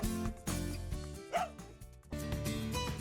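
Dog barking in the video game The Dog Island: a few short barks and yips over loud, steady game music, with a brief whimper-like rise in the middle.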